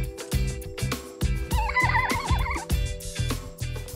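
A person imitates an elk call with a wavering, squealing, whinny-like tone that rises and falls for about a second over a busy, rhythmic background.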